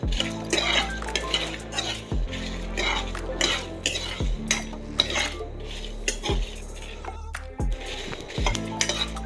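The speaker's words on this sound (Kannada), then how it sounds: "ಈಗ ಒಂದು ಕಡಾಯಿ ಇಟ್ಕೊಂಡು ಅದಕ್ಕೆ ಈ ಡ್ರೈ ಐಟಮ್ಸ್ ಎಲ್ಲ ಹಾಕ್ಕೊಳ್ಳೋಣ. ಸೊ ಇದನ್ನು ಲೈಟಾಗಿ ರೋಸ್ಟ್ ಮಾಡ್ಕೊತಾ ಇದ್ದೀನಿ" Dry spices being stirred and lightly roasted in a kadai for a Mangalore-style chicken ghee roast, a metal spoon scraping and clinking against the pan in steady repeated strokes, close and fairly loud, with no talking.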